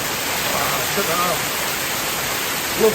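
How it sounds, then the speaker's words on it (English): A waterfall in the Peak District, its constant broadband rush filling the whole stretch at a close, even level, with a couple of brief faint tonal chirps on top. "Let's go and have a look at Waterfall and I'll show you around"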